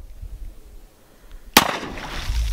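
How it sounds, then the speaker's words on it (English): A single .30 Carbine gunshot fired into pond water, a sudden sharp crack after a quiet stretch, followed by a lingering splashy rumble and outdoor noise. "We're gonna shoot some rounds into the water just to see the splash."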